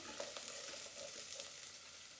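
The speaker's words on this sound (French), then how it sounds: "Je mets l'oignon dans la marmite jusqu'à ce qu'elle devienne translucide" Chopped onion sweating in a pot with oil, a soft steady sizzle with faint crackles and stirring, quiet and close.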